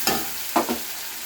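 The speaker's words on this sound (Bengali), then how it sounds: "দিয়ে আমি মশলাটা দিয়ে এটা কষে নিচ্ছি খুব ভালো করে।" Spice paste with garlic, chili and mustard being stirred and fried in a pan for a fish curry, a soft continuous sizzle broken by a couple of short scraping strokes of the spoon, close by.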